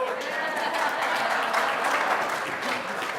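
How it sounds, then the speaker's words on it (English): Conference audience at a single-payer healthcare strategy event applauding steadily, a dense even patter of clapping from a large room, moderately loud, with no talk over it. "Now you all applaud"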